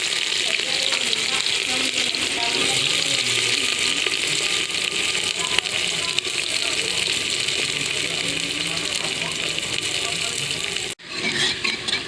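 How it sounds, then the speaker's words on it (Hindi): Onions with bay leaf frying in hot oil as a tempering for a garlic curry, a steady close sizzle and crackle running throughout, broken by a brief clatter and drop near the end. "तो हम प्याज के ब्राउन होने तक भून लेती हूँ।"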